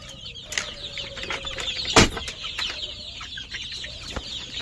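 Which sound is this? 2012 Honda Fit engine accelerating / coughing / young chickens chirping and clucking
young chickens chirping and clucking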